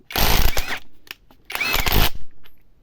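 A $70 impact wrench loosening a bolt gives two loud, harsh bursts of rattling hammering, each about half a second long, separated by a short pause.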